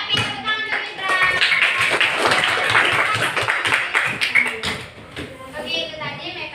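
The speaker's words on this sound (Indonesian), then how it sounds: "Tapi tepuk tangan untuk Gibran." Classroom of children clapping for a classmate, lively uneven hand claps with kids' voices chattering over them, loud and close, thinning out toward the end.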